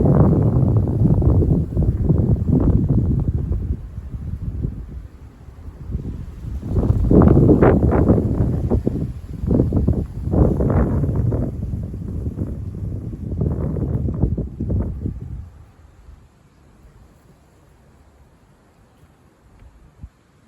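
Winter gale wind picks up with snow falling, loud rumbling gusts buffeting the microphone in irregular surges before dropping away to a faint hush for the last few seconds.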